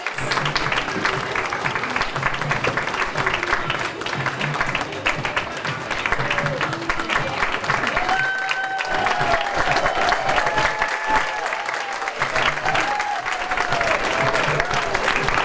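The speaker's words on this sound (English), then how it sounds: "Let's give everybody a big round of applause." Sustained audience applause fills the space, many hands clapping densely and loudly throughout with faint crowd noise.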